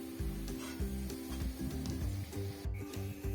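Green peas kebabs fry in oil at medium heat, giving a steady close sizzle with a regular pulsing rhythm, with no talking over it.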